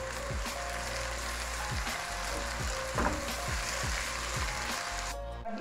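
Two large, finely chopped tomatoes with onion frying in a pan for dhaba-style masala bhindi with okra, stirred with a spatula in a steady rhythm of scraping strokes over a continuous close sizzle.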